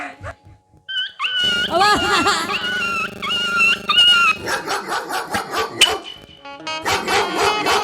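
A dog barks in short bursts and whimpers with high whining cries, loud and close, mixed with people talking and other voices around it.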